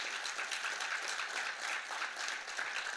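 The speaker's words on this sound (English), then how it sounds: "can we truly give Karen Du Bois Walton, Dr. Du Bois Walton, and Elm City communities a huge round of applause?" Steady audience applause fills a city council chamber during a Board of Alders meeting and State of the City address, a dense, sustained wash of many hands clapping at once without a pause.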